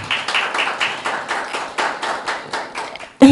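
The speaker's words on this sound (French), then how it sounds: "on commence avec les applaudissements" Sparse, rhythmic clapping at a conference on media and women's absence from politics, about a dozen evenly spaced claps in a near, small-sounding room, ending with a sudden louder sound.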